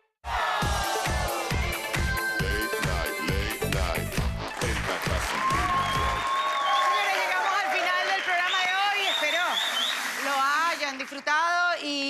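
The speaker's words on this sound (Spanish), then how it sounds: "Señores, un aplauso a Miguel Barón." A television show audience claps and cheers, starting with rhythmic beats under music, then loud sustained applause while a voice talks over the crowd.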